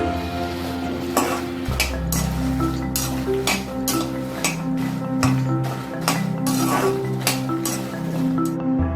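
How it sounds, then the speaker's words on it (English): Red chilies roasting in a pan for coconut powder, with a soft steady sizzle and repeated clinks and scrapes of a spoon stirring against the pan over background music. "Now let us add the red chilies and roast it till we get a roasted aroma."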